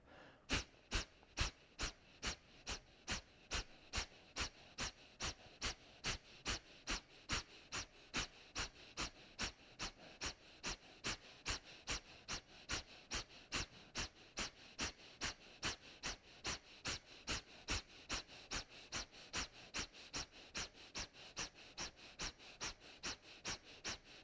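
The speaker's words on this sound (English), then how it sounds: "And from here you can close your eyes and start pumping your breath." Rapid rhythmic pumping breaths during a morning yoga session, dozens of sharp even bursts at a steady pace, close and fairly loud, with no talking over them.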